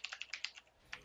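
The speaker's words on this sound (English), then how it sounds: "The mad typing skills is coming up, boys!" Short burst of fast computer keyboard typing during a Smite game: six or seven quick, close clicks, a brief pause, then one last keystroke, with no voices.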